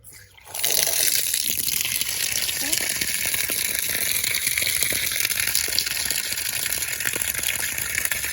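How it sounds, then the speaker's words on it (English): Water gushes steadily from a tap after it is opened, a loud continuous rushing splash that keeps going without pause. "That's outdoor pipe, and when you open, you already get water."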